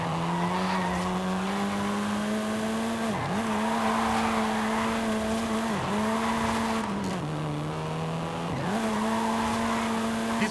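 A 7th-generation Volkswagen Golf R racing in Forza Horizon 5 holds a steady droning engine tone, broken three times by short dips as it shifts gear, with tire squeal and road noise throughout.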